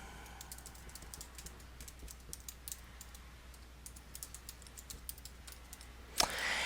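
Someone types on a computer keyboard, a steady run of light, quick key clicks close by in a quiet room, with one sharper louder tap near the end.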